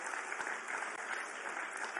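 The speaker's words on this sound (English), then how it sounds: "You can clap for that." An audience applauds at a political speech, an even, continuous wash of crowd clapping that sounds somewhat distant and muffled.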